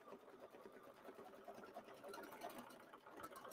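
An embroidery sewing machine stitches the inner ear fill of a mini quilt, through leather and wash-away topping, with a quiet, steady rapid whir of needle strokes.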